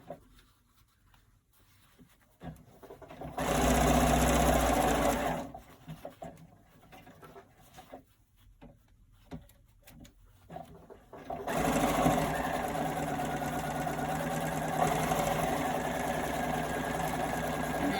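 Sewing machine stitching a cloth face mask at about a 3 stitch length, running in two long bursts with quiet pauses and small handling clicks between, steady and fairly close.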